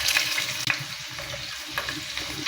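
Garlic and ginger paste fries in hot oil with bay leaf, cardamom, clove and cinnamon for a goat liver bhuna, giving a loud, dense, continuous sizzle and spatter with one brief knock near the start.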